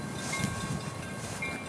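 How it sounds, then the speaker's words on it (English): A CP Poco tank train crosses the CN and CP railway diamond at Saint James Junction in Winnipeg, Manitoba, giving a steady rumbling roar of wheels and cars, with faint high metallic squeal tones above it. "The CP Poco tank train crossing the CN and CP Diamond."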